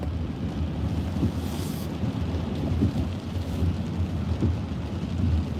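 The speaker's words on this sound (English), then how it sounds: "Rainy, stormy day." A rainy thunderstorm heard from a car driving into the Malibu canyons: a continuous rushing wash of rain and wind with low rumbling swells rising and falling throughout, and no one speaking.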